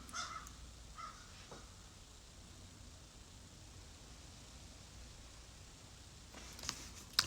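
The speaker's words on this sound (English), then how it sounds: "I think Mr. Crow wants me to go outside and say hello to him." A crow caws faintly in the distance outdoors, a couple of brief calls near the start and again near the end over a steady background hiss.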